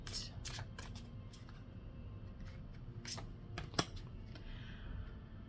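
Quiet riffling and soft flapping of tarot cards being shuffled, in several quick bursts with a sharper snap near the end, close and faint.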